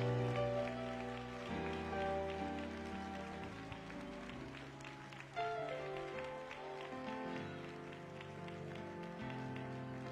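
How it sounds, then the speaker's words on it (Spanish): A church congregation claps along with sustained music and singing during a Sunday worship service, the patter of hands forming a steady wash beneath the instruments. "Vamos a darle un aplauso al Señor"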